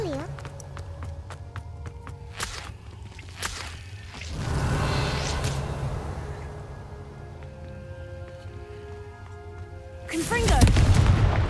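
Bombarda spell explosions in the video game Hogwarts Legacy: several sharp blasts and whooshes, with a rumbling boom in the middle and a loud burst near the end, under a steady game score and a voice speaking.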